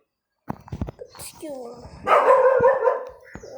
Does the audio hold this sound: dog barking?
yes